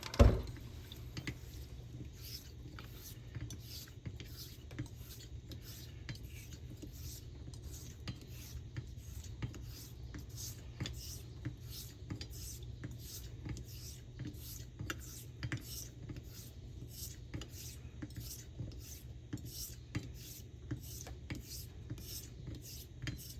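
Vintage straight razor being honed on a coticule stone with soapy water, a steady series of soft, evenly spaced rasping strokes close up, each a brief scrape repeating roughly twice a second over a low background hum.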